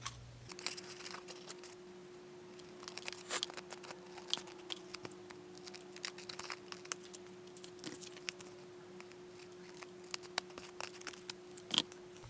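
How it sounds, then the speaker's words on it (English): Scissors trimming the edges of paper card for a handmade baby-themed greeting card, a run of small crisp snips and paper rustles close by, steady and fairly quiet, with a faint steady hum underneath. "I'm just going to use my scissors to do this"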